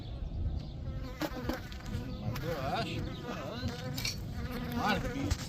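Honey bees buzz in a dense, steady swarm around a hive during swarm season, a close, continuous drone with individual insects whining past.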